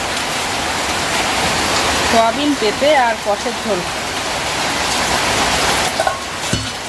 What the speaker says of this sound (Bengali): এত বৃষ্টির স্পিড